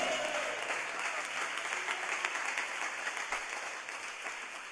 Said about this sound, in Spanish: ¿Cuánto le da una ofrenda de palmas al Señor?